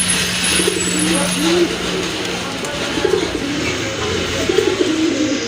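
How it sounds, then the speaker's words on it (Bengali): A big yellow pair of Bombay pigeons coo repeatedly in soft, rolling phrases, close by, over a constant background hum. "আরেক জোড়া কবুতর, বোম্বাই কবুতর"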